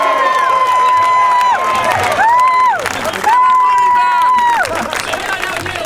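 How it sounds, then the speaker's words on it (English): A crowd at an Occupy Santa Rosa street rally cheers loudly and steadily, with sustained rising and falling whoops and calls standing out above dense hubbub. "Let's have a round of applause."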